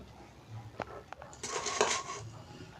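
Dishes and cutlery clink in a home kitchen as rice is served, a few sharp taps and scrapes followed by a denser cluster of clattering, close by with no talking.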